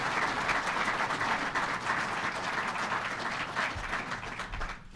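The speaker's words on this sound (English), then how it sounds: "Let's give them both a great round of applause again." Sustained applause from an audience at a government event hosted by Local 25 IBEW, a dense steady wash of many hands clapping that holds at an even level throughout and tapers slightly at the end.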